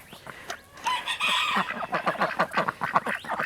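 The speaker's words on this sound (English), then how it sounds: "Some ducks, a few old hens in here" A mix of ducks and old hens close by, loud clucking, crowing-like calls and quacks tumbling over one another in quick uneven bursts.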